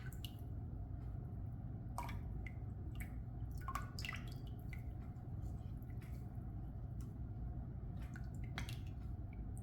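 Wet green tea bags squeezed out by hand for kombucha, giving soft squishing and scattered small drips over a steady low background hum.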